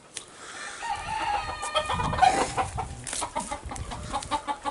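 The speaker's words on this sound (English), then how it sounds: "We got chicken," Chickens cluck steadily around a barnyard coop while a rooster crows once, close and loud, amid a busy mix of hen calls on a cool, rainy farm morning.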